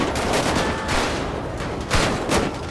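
Dense gunfire from GTA 5 during a chaotic jewelry robbery shootout, a continuous burst of overlapping rapid shots, loud and close for under three seconds.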